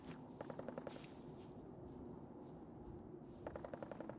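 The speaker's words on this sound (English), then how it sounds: "Oh god, we've already got gunshots nearby" Fallout 4 gunfire close by: two rapid bursts of repeated shots, one near the start and another near the end, over a steady low rumble of game ambience.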